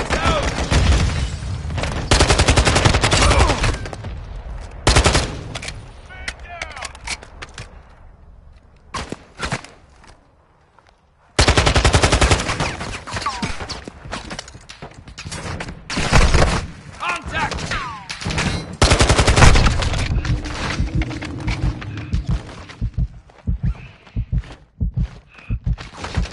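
Bursts of video game gunfire, rapid volleys and single shots, loud and close, separated by a short quiet gap and trailing into scattered shots near the end.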